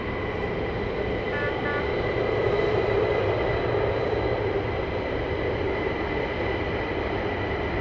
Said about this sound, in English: And Avro, beautiful looking aircraft.